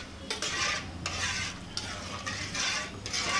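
A spoon stirs jackfruit seed dal seasoned with garam masala in a pot, making rhythmic scraping strokes roughly every half second over a soft background sizzle.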